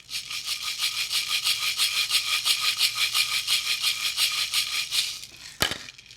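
A big hand-painted gourd rattle, decorated with a rattlesnake tail, shaken steadily in a fast rhythm of dry hissing pulses for about five seconds, closing with one sharp knock, close and alone.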